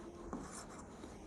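A short stretch of marker or chalk writing the number 3 on a classroom board, with quick faint scratchy strokes heard up close in a quiet room.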